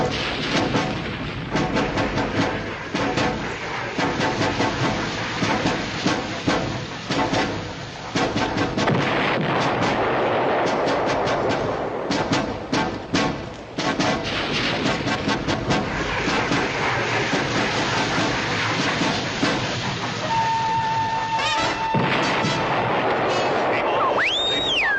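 An artillery fire mission in a World War II TV drama, with heavy guns booming again and again in dense, loud, continuous barrages and rumbling explosions that fill the whole stretch.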